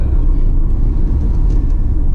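A 2019 Volvo V60/S60 being driven fast on a lap gives a loud, steady low cabin rumble of road and engine noise, continuous and even, with no voices.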